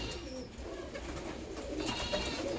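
Pigeons coo softly and repeatedly at a water dish in a loft, low throaty calls layered over quiet background noise, with no speech.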